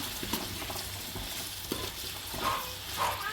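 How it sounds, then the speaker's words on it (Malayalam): Chopped onions sautéing in a pan for chicken biryani, giving a continuous soft sizzle with occasional stirring scrapes, close and low in level. "നല്ലപോലെ ഇളക്കി വഴണ്ട് വരുന്നവരെ ഒന്ന് ഇളക്കി കൊടുക്കണം"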